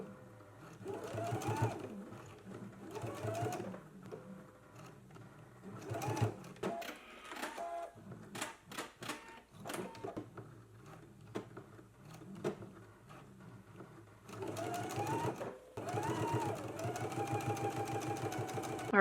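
A sewing machine top stitches along the waistband of a girls' dress, running in several bursts of rapid stitching separated by short pauses and quiet handling sounds, fairly close.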